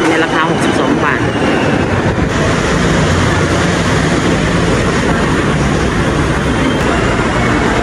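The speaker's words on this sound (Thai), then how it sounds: "ตอนนี้เราอยู่ที่สถานีสำโรงเราจะขึ้นรถไฟฟ้าไปหมอชิดนะในราคา62บาท" Bangkok skytrain at Samrong station, a loud continuous rumble and roar of the train running throughout, with a voice talking in the mix.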